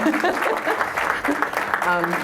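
Audience applause, a steady wash of clapping with voices mixed in, filling the whole stretch at a moderate, even level.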